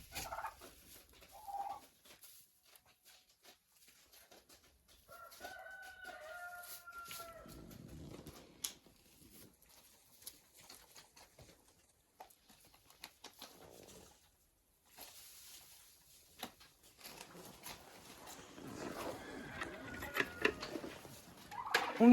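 A rooster in a winter chicken coop lets out a faint, drawn-out crow midway, set among sparse clucks, rustling and other fowl sounds in a quiet barn.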